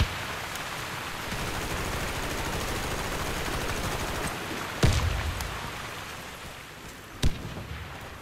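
Warface video game gunfire: a steady dense wash of noisy game sound with two sharp, loud shots standing out near the end, close and with no talk over it.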